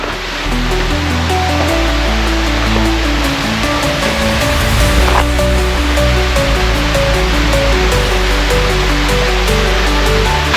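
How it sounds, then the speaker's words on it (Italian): A small mountain waterfall carrying little water gives a continuous, loud rushing wash of falling water, with low steady tones running underneath throughout. "questa dovrebbe essere stata una gran bella cascata di acqua"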